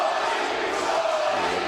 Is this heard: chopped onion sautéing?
no